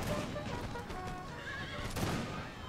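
Cavalry horses clash in a battle in Empire: Total War, with dense overlapping hoofbeats, neighs and whinnies under a constant roar of battlefield din, loud and sustained throughout.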